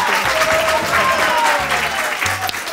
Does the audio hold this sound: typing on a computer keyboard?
no